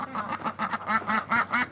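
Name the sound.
ducks quacking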